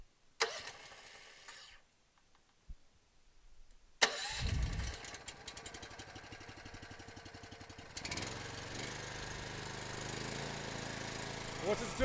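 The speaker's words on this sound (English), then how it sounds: "Start our engine back up." Engine on a Stratos DMS unit starting up after a valve is opened, with a sharp cranking catch, then a steady mid-pitched running drone that steps up in load later, after quiet clicks and handling noises.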